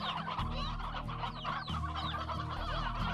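Chickens in the video game Slime Rancher cluck in repeated short bursts, fairly close and steady, over a low droning game music bed with no talking.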